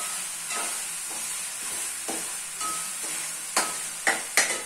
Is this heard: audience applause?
no